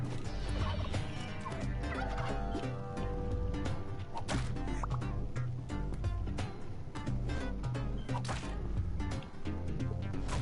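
Turkeys in the video game Spelunky 2 gobble repeatedly in loud, rapid bursts layered over busy game sounds and thumps, with no talking.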